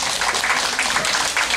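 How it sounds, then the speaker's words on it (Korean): A short, loud burst of crowd clapping at a volunteer awards ceremony and year-end fashion show, dense and continuous, with no voices. "다시 한번 큰 박수 부탁드립니다."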